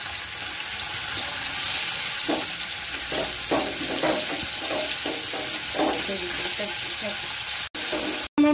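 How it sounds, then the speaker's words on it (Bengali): Shrimp frying in hot oil for a Bengali chingri curry, a steady crackling sizzle spread across the whole stretch with a few sharper spits and pops, close and fairly loud, cutting off briefly near the end. "জেলে এই চিংড়ি মাছগুলো এবার আমি ভেজে নেব। এগুলো ছেড়ে দিলাম।"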